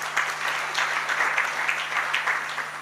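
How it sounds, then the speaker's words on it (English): Conference attendees at a UN ITU forum on cities in Tanzania clap together in a brief, steady burst of applause that fills a large hall, heard alone without talking. "Let's clap our hands for each one of us"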